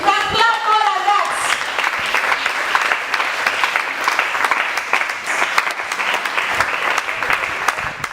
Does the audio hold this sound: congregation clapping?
yes